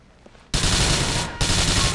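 Enemy gunfire in GTA IV, a dense loud burst of rapid automatic shots that cuts in abruptly, pauses briefly, then resumes close and harsh.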